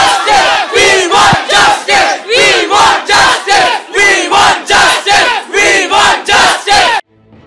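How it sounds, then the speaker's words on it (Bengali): Law students at a college campus chant the "We Want Justice" slogan during a Saraswati Puja dispute: a loud, close crowd of voices shouting in unison with a steady, regular rhythm of about two beats per second, stopping abruptly at the end. "কলেজ ক্যাম্পাসে উঠল উই ওয়ান্ট জাস্টিস স্লোগান"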